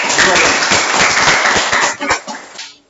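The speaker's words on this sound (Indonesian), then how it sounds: "tepuk tangan untuk kelompok 2" Classroom applause for a student group after a presentation, a dense patter of many hands clapping close by with voices mixed in, fading out at the end.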